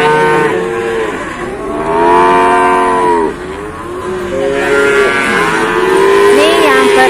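Cattle at the Gondanglegi livestock market moo loudly and close by in long, drawn-out calls that overlap one after another, over a background of market noise.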